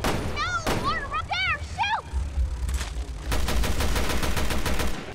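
Rapid gunfire in Resident Evil Revelations 2 on Switch, bursts of sharp shots rattling in quick succession with game sounds in between, building into a dense stretch of firing near the end.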